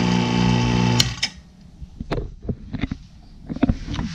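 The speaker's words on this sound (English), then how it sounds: "Now I can turn this pump off." An A/C vacuum pump hooked to a car's air-conditioning system runs with a steady, loud mechanical hum for about a second, then switches off, followed by scattered clunks and handling noises.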